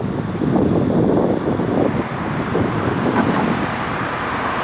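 Car rolling along a road through Daytona Beach, heard as a continuous roar of tire and wind noise that swells slightly near the start and then holds level, with nobody speaking.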